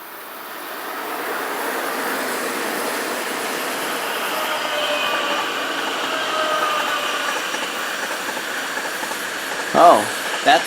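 A Capricorn train rolls past on a Swiss railway, a long steady rumble of wheels on track, fairly loud and close, with a brief wheel squeal near the end.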